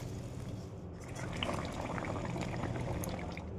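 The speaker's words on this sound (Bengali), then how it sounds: "এবার দিয়ে দিলাম মাছগুলো।" Katla fish pieces go into a simmering potato and eggplant curry, with a steady, dense bubbling that stays fairly even throughout and has no voices over it.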